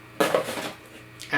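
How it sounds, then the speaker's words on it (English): A ceramic saucer for an eco plant pot is handled and set down during a plant unboxing, giving a few close, clattering knocks and scrapes in a short burst, then a brief clink at the end. "And a saucer."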